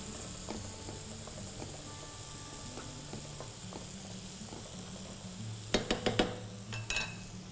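Onion and garlic fry in a pan alongside chicken breast, a soft steady sizzle with faint stirring, then a few sharp clattering knocks of a utensil against the pan near the end.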